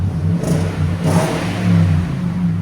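A 2017 Nissan Titan SL 5.6L V8 with a Magnaflow exhaust and black tip gives a deep, rumbling exhaust that revs up close in a couple of throaty surges, then settles back to a low idle.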